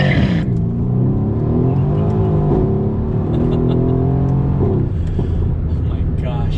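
A Mercedes-AMG C63 S Coupe Edition 1 accelerating hard, its engine loud and close with rising revs, a brief shift dip, then climbing again; a voice speaks over it.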